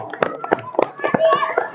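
Children in a fourth-grade classroom clap together in a short, patterned rhythm of sharp claps, close and loud, with young voices mixed in.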